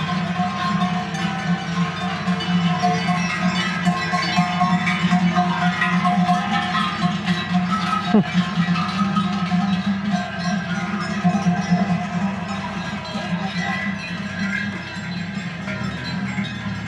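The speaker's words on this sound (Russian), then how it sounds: "О, шум какой. Вот этими колоколами." Cowbells on a herd of cows in Krimml, Austria, clank in a dense, continuous, fairly loud jangle from many bells at once, with no talk over them.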